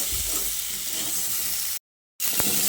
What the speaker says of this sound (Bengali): আলুটা যেহেতু সেদ্ধ করা আছে তাই খুব বেশি ভাজার দরকার নেই, হালকা একটু ভাজলেই হয়ে যাবে